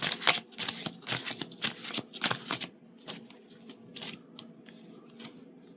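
Tarot cards are shuffled by hand in a quick series of crisp riffling bursts, close and fairly quiet, then tapering into lighter, sparser flicks.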